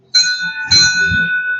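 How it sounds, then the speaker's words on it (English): A bear bell rung hard by a hiker on a remote mountain route, two bright metallic strikes about half a second apart, each leaving a long shimmering ring, close and loud, with faint footfall-like rustle beneath. "Ringing the bell hard against bears."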